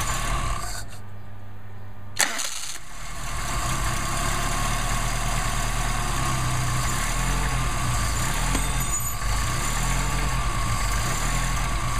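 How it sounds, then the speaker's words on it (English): A Mercedes 190SL engine fitted with Solex carburetors starts from cold with choke engaged, then settles into a steady, rumbling idle that runs loud and continuous close by. "We got us a cold engine, and let's see if we can't test your carburetors"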